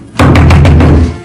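Several loud, close knocks on a door in quick succession, a run of four or five heavy thuds with a booming low resonance.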